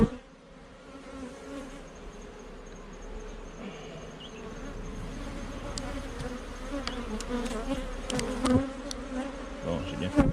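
Honeybees buzz steadily around an open beehive during a springtime frame inspection, a close, continuous droning swarm with occasional handling clicks and knocks, growing slightly louder toward the end.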